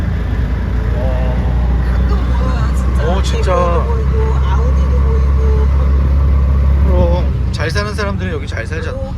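An auto rickshaw engine in India drones steadily, straining uphill under labored load, with people talking over it throughout.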